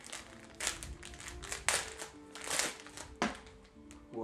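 A Hogwarts tapestry is unwrapped from its packaging, with close, quiet bursts of crinkling plastic and rustling at uneven intervals.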